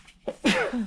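A single sharp sneeze, close and loud, with a quick intake of breath before the burst.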